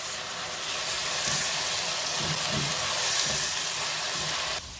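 Peppers frying in a hot pan for jollof rice, giving a steady broad sizzle and hiss that holds evenly throughout with no talk, ending slightly quieter.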